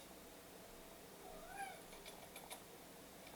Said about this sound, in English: Angel Meows.